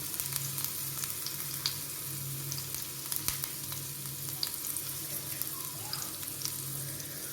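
Shallots and ginger frying in oil, a fairly faint, steady hiss with scattered light crackles and a low intermittent hum beneath, no talking.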